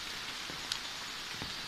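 Rain falling in a tropical rainforest in Borneo's Gunung Gading park, a dense, steady hiss of drops on leaves and surfaces with a few distinct nearby drips, no voices.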